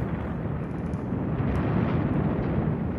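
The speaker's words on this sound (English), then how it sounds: "That there was a big explosion." Big explosion in the video game Evil Genius: a dense, sustained low rumble of blast noise fills the clip at steady loudness, with no speech.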